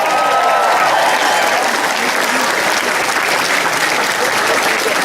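A large crowd at a Women For Romney campaign rally gives another round of applause for the singer and the band, a loud, dense, continuous roar of clapping and cheering that fills the whole stretch.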